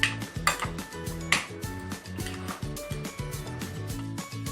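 A spoon mixing paneer paratha filling in a bowl, with rapid, close clinks and scrapes of metal against the dish in a steady stirring rhythm while music plays underneath.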